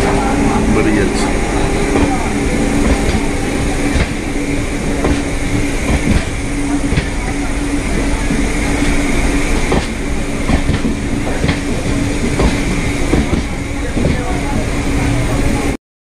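The Falaknuma Express rolls out of Madpur junction at close range, a loud continuous rumble with rhythmic clickety-clack of wheels over rail joints, while a voice talks over it.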